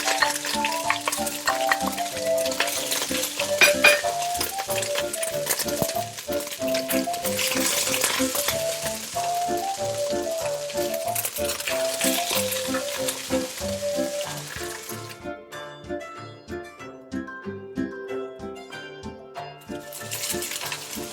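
Ginger and garlic fry in spiced oil in a pan for a chicken curry, a continuous sizzle sitting beneath loud instrumental music that plays throughout.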